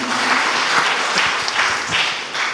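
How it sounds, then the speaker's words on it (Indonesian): A church congregation breaks into applause, a thick continuous clapping from many hands close by, steady throughout. "Tepuk tangan buat semuanya."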